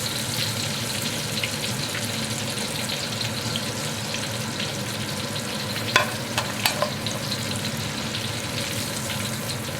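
Fried pork pieces sizzle and crackle steadily in a basket over hot oil, a dense continuous frying hiss with a few brief clinks as the basket is shaken, close by and without talk.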